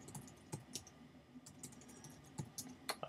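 Fingers type on a computer keyboard, a quiet run of irregular key clicks close to the microphone.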